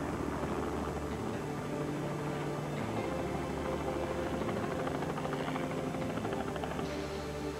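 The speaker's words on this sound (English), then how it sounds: "medics arrived and took over prepping Debbie for the helicopter ride to the hospital." A helicopter's rotor throbs steadily, loud and close throughout, with a constant engine whine during a medical rescue flight.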